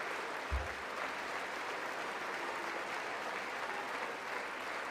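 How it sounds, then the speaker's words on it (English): Audience applause during a State of the Union address: steady, continuous clapping that fills the whole stretch at an even level, with no talking over it. "I don't care if they're clapping or not."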